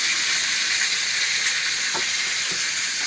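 Chicken and dumplings simmering in a pot, giving a steady bubbling sizzle and hiss that holds at an even level throughout, with no one speaking.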